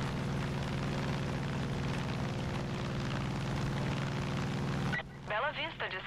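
Airplane flying in the video game Far Cry 5, a steady loud engine drone with a rich harmonic hum that cuts off abruptly near the end, followed by brief gliding, swooping tones.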